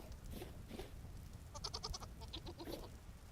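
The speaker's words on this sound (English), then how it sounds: "And we have baby goat." A baby goat bleats in the Vintage Story video game, a run of repeated short, harmonic cries over steady background noise, loud and fairly close.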